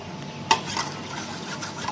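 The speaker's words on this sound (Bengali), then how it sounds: "এটা সব মিশিয়ে নাও চামচে দিয়ে, হাত দিয়ে" A spoon stirs sour curd into an egg and mustard mixture in a bowl, giving soft, wet rubbing and squelching with one sharp clink of metal against the dish near the start.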